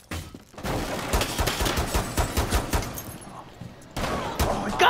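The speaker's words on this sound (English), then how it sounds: "I shot him with a pistol!" Pistol fire in Rainbow Six Siege, with a burst of sharp, rapid gunshots and a few crashing impacts, loud and close, followed by a pause and then another short volley.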